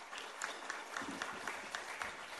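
A fintech festival audience applauds the arriving State Bank of India chairman, with faint, distant, steady clapping across a large hall.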